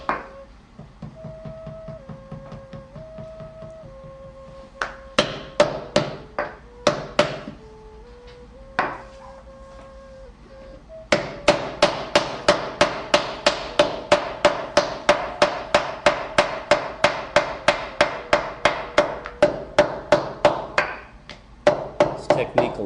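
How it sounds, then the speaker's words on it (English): A wooden mallet pounds a slab of Yixing zisha clay on a hardwood table while teapot bottoms and tops are made. Sharp, close thuds come in scattered bursts, then as a fast, steady run of evenly spaced blows, with a tonal melody playing underneath. "using the mallet against that hardwood table. Also compresses the clay quite extensively."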